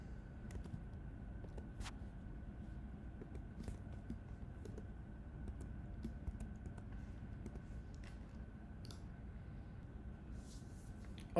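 Keys tapped on a computer keyboard while a password is entered, a quiet, steady run of light clicks over a low background hum, with no talking.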